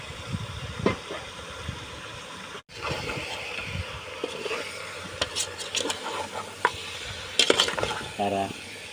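Native chicken adobo sautéing in a pan, a steady low sizzle with scattered scraping and stirring knocks, a brief gap near the start and a few sharper clinks toward the end.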